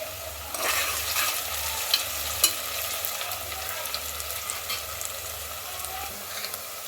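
Mutton curry masala being stirred with curry leaves in a hot pan, a continuous close sizzle with scraping stirs and a few light spoon taps, no talking.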